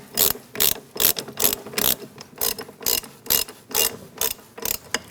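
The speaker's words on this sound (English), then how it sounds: "I'm going to use a manual ratchet just to make sure that this is all lined up and it's threaded in right" A manual ratchet threads a bolt during a front strut and spring assembly replacement on a 2000–2006 Mini Cooper, giving a close run of sharp rhythmic clicking bursts, roughly a dozen strokes in steady succession.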